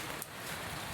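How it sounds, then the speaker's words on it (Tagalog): Soft, steady rain patters in the background, a faint even hiss with no talking. "Umuulan"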